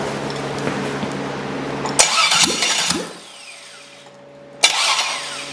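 Forced-to-run engine: a starter-driven rhythm and running hum, then loud bursts as it catches and revs, a drop to quieter idling, and another sharp surge near the end.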